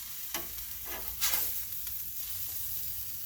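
A Sloppy Joe quesadilla with fried corn sizzles steadily on a 22-inch Blackstone griddle, a close, constant hiss of frying punctuated by a few scraping spatula strokes.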